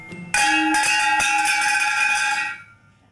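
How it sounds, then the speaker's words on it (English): A loud metallic clang rings out suddenly, then its bright, bell-like tone hangs and slowly fades over a couple of seconds. "After a loud metal clang that he has absolutely no interest in going to inspect"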